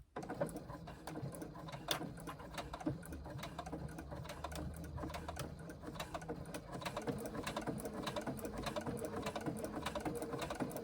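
A computerized sewing machine stitches a quarter-inch seam on a sling bag, a quiet, steady mechanical patter running continuously with occasional sharper clicks.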